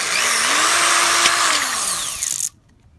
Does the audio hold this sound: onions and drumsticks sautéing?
no